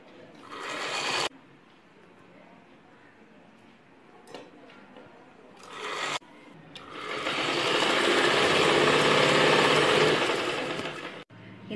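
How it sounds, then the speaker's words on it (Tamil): A sewing machine stitches the edge of a saree in short bursts and then one long steady whir, close and clear, with quiet pauses and small clicks in between. "நீடில் கீழே அப்படி வச்சுட்டு மோட்டர் ஆன் பண்ணிக்கலாம்."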